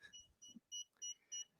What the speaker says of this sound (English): So it's actually beeping right now.